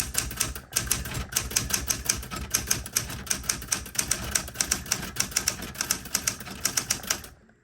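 Steady, rapid keystrokes on a 1964 Smith Corona Galaxie manual typewriter, sharp clacks in an even rhythm with brief pauses, close and alone, stopping near the end.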